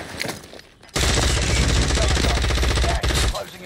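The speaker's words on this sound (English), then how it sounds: "I'm getting shot at from behind." Heavy automatic gunfire from enemies in a Warzone Rebirth Island match, a loud continuous burst that kicks in suddenly and holds for about two seconds, briefly drops out, then resumes with dense rapid fire.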